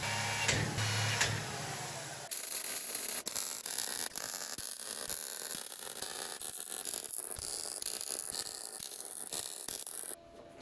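Drilling holes and tack welding a handle onto a steel drawer front for a heavy-duty workshop cart: a loud, sustained buzzing crackle runs almost unbroken, with a sharper burst near the start and a short cut-off at the end.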